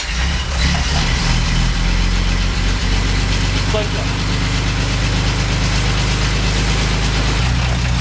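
A 1932 light beer truck that sat unused for nearly a year runs at idle after starting, its old engine rumbling in a loud, steady low chug throughout.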